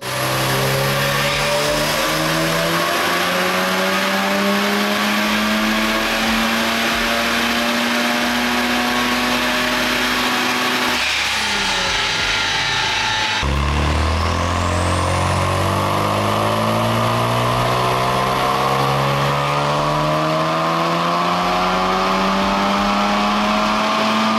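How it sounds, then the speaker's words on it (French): A Mazda RX7 FD strapped to a dyno for a mapping session, its rotary engine held at a loud sustained drone that climbs and sweeps through revs, briefly drops with a hiss, then winds back up. "La voiture est sanglée sur le banc et on va voir ce que ça donne."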